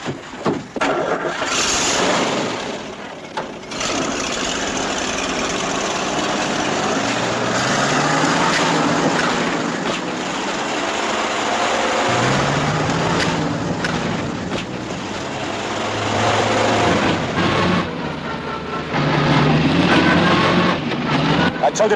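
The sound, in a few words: all-wheel drive vehicle engine racing in mud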